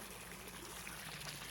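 Water trickles and streams steadily from the line of a pool accessory with a small internal motor, a continuous soft splashing flow close by with no talk.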